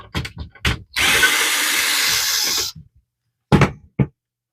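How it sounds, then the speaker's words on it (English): A power screwdriver removes a screw from a Canon PIXMA MG2120 printer panel: a close, steady whirring burst of almost two seconds, set between sharp plastic clicks and taps, then near silence and two more knocks. "Let's go ahead and remove the 3rd screw for the panel."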